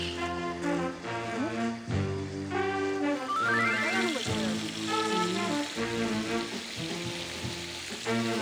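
Food sizzles and crackles steadily in hot olive oil in an outdoor camp kitchen by a lake in Montreux, with seasoning of salt and pepper. Music plays over the frying and people talk intermittently.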